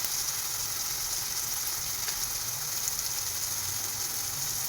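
Chopped onions fry in hot oil for an Andhra-style chicken curry, giving a continuous even sizzle with a faint hiss throughout and no talking.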